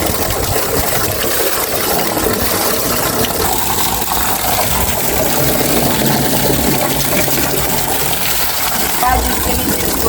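Water pours and rushes continuously into a tank, a loud, dense and steady wash of noise with a faint mechanical hum underneath.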